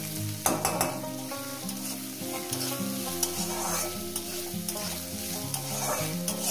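Onions sizzle steadily in a small amount of oil in a pan, close and continuous, with frequent scraping and clinking strokes of a spatula stirring them at an uneven rhythm.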